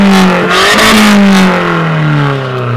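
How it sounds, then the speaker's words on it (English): A decat car engine revving at a car culture meet, loud and close, a sustained throaty rev that rises then slowly falls away over a few seconds. "Give it a rev."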